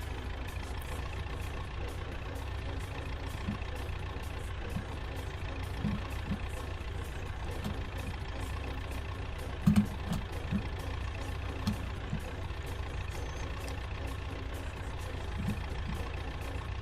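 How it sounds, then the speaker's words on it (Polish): A farm tractor from a farming video game, working a field while harrowing, gives a steady low diesel drone that holds an even level throughout with faint intermittent knocks and one brief sharper clunk midway, alone with no talk. "Teraz mogliście chwilę posłuchać sobie takiego dźwięku ciągnika, dźwięku takiego bronowania, dźwięku jak on sobie jedzie, dźwięku jak on sobie pracuje"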